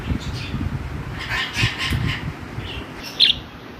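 Pet lovebirds chirping nearby, with a few soft tweets through the middle and one sharper, louder call near the end over a faint background murmur.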